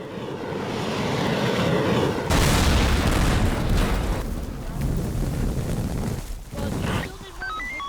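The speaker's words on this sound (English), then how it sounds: "watch the bunker buster missile. It's a bunker buster missile." A bunker buster missile hits in the game Teardown with a huge roaring blast: loud rumbling fills several seconds, then fades in choppy bursts, with brief tones near the end.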